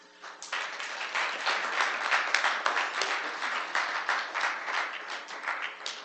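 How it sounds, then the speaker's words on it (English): Sustained audience applause at a University of Maine student government presidential debate, dense steady clapping from a crowd that swells in after a brief quiet start and continues throughout without speech. "Let's give these two candidates one last round of applause for being here tonight."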